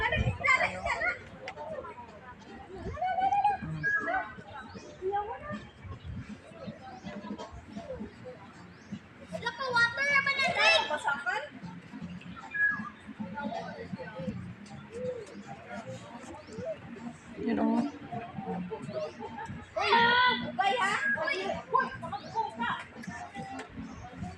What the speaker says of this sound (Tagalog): ang ingay ng mga bata